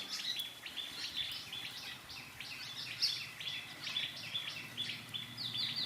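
A baby bird chick chirps in a string of short, high, thin peeps, repeated in quick irregular bursts over a faint, quiet background.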